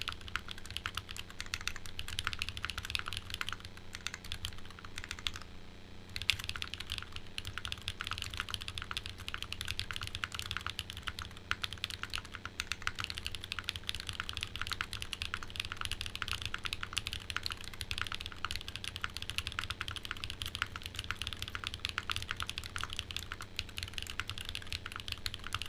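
Continuous close-up typing on an HHKB keyboard fitted with Zaku switches, a rapid stream of crisp key clicks over a low steady background hum, with no talking.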